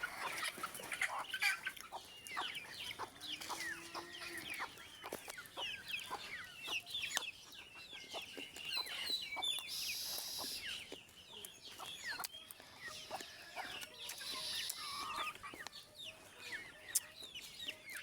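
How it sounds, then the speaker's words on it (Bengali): Native free-range chickens clucking outdoors, a scatter of soft, fairly distant clucks and short calls repeating across the whole stretch over a faint background, with no clear talking. "আমাদের মুরগিগুলো"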